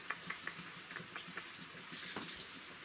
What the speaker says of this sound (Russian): У нас такой ливень там поливает.